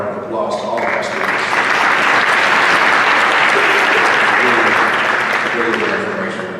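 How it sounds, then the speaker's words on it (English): An audience gives a round of applause for students after their presentation, loud and sustained dense clapping that builds quickly and holds steady before easing slightly at the end. "Let's give another round of applause to all of our students."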